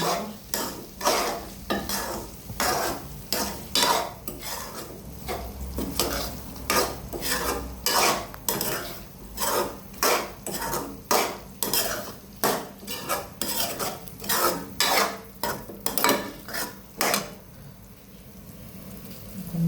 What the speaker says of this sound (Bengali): এখন একটু কষাতে হবে, ভালো করে কষাতে হবে